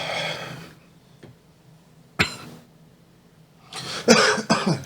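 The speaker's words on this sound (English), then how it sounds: "You done coughed like 83 times on the show" A man coughs in several harsh bursts: one heavy cough up front, a sharp single cough in the middle, then a cluster of two or three close, loud coughs at the end, with quiet gaps between.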